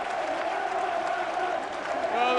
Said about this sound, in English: the crowd have gone absolutely bananas here